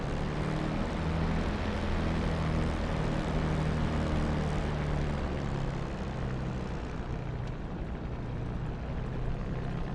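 A P-51 Mustang's propeller engine runs at steady idle as the fighter begins to taxi, a deep, even droning rumble that fills the whole stretch, close and continuous.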